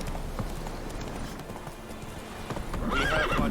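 Roach, a horse in The Witcher 3, gallops with quick, close clip-clopping hoofbeats that swell in loudness, and a shrill whinny rings out over them near the end.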